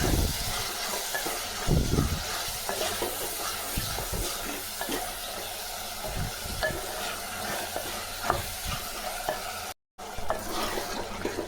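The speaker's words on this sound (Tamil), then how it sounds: "இதை நல்லா போட்டு வதக்கலாம்." Onions and tomatoes sautéing in oil, giving a continuous hissing sizzle with occasional scraping stirs, close up with a brief dropout near the end and no speech.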